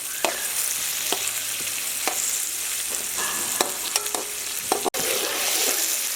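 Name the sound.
onions frying and being stirred for Kabuli pulao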